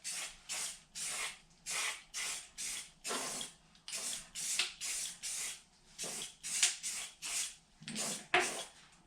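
Spray can laying a light coat of paint on the grille of a 1961 Pontiac, about fifteen short hissing bursts in a steady rhythm, close and fairly quiet.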